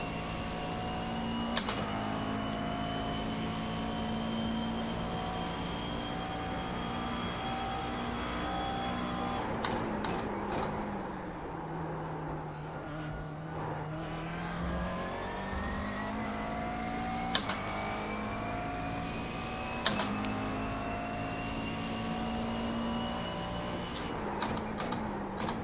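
A McLaren MP4-12C GT3 race car in iRacing at Circuit Gilles Villeneuve, its engine droning steadily with rising and falling pitch through gear changes, punctuated by occasional sharp shift clicks.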